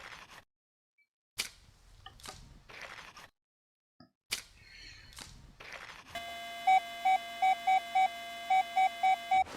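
A handheld metal detector sounds a rapid, regular run of clear electronic beeps on a buried target, preceded by quieter rustling and digging.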